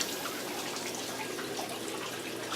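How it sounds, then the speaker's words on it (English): Water trickles and drips from a leering skeleton Halloween prop at a haunted tent attraction, a steady, hissy flow that continues without a break, fairly faint and with no voices over it. "Leering skeleton's working with the water dripping out."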